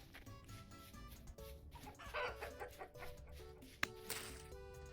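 Chickens clucking in the Vintage Story video game, soft irregular clucks and short calls scattered through a faint ambient farm background with a tonal music bed, no voices.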